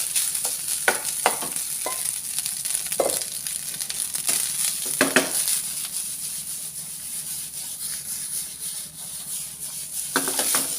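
Jeera rice is stirred and fried in a pan, a steady soft sizzle broken by repeated scraping strokes and light clinks of the spoon against the pan, fairly close and with no talk.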